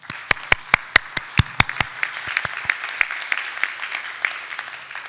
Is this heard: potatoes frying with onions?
no